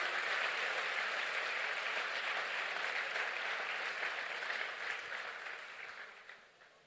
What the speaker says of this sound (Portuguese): Você pode aplaudir esse Senhor, amado?